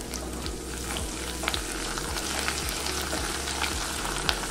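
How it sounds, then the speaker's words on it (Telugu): Ginger garlic paste frying with onions in a pan for potato curry: a dense, continuous sizzle and crackle heard up close and loud throughout, with a soft, regular stirring rhythm underneath and no talking. "ఉల్లిగడ్డ బాగా వేగిన తర్వాత ఇందులోకి 1 టీ స్పూన్ అల్లం వెల్లుల్లి పేస్ట్ వేసుకుంటున్నాను।"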